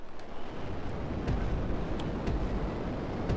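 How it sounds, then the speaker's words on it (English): Rumbling explosions in the GTA 5 video game, a dense continuous roar with repeated low booms and crackling bursts, loud and close with no talking. "So many explosions."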